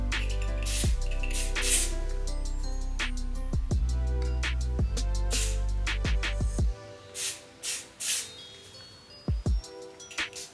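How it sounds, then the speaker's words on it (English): Wonder Bond adhesive spray misted under the front edge of a wig, a few short close hissing bursts over a steady low hum, then separate quick sprays with pauses between them. "I'm just gonna take some of my Wonder Bond spray"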